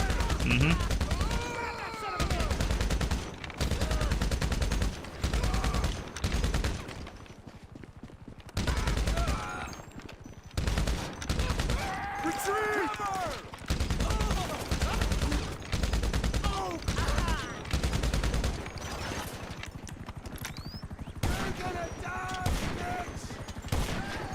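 Enemy gunfire in the video game GTA Online, with dense bursts of rapid shots and volleys running almost continuously, loud and close, while voices talk over it at times.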